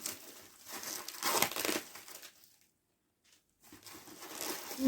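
Crinkling and rustling of a large cardboard parcel of books being unpacked up close, two bursts separated by a brief quiet pause.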